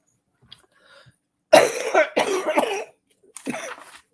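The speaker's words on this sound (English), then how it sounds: "I hate this cough." A burst of harsh coughs, two or three in quick succession, followed by a short pause and one more cough, close and loud against near silence.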